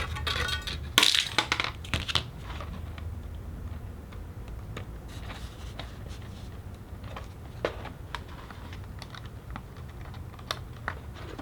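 Pushrod wire for a model plane snipped during a foam aircraft build, with one sharp, loud cut near the start followed by faint scattered clicks and handling noises.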